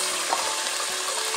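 Whole spices (cinnamon, green and black cardamom, cloves) sizzling in hot oil for beef shorba, a steady close frying crackle with a faint clink of stirring.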